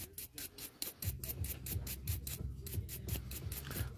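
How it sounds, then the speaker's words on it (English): A nail drill with a diamond bit gently buffs dry cuticle skin at low speed, about 6,000 RPM, making faint, rhythmic scratchy rubbing strokes repeated roughly every third of a second, close up and quiet. "I'm just really gently buffing out the dry skin at a really low speed"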